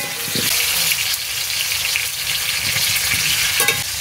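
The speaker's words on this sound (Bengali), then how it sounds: "কিছুটা নুন দিয়ে আমি আলুটা ভেজে নিই।" Salted potato pieces fry in hot oil, giving a loud, dense sizzle that holds steady, with a few stirring scrapes and light clatter, heard up close and without speech.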